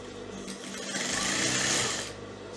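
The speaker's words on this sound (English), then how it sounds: "make sure you are stitching on top of the elastic" Sewing machine stitching fabric over elastic for an off-shoulder tube yoke gown, a brief burst of motor whir and needle clatter that swells and fades, close with no talk.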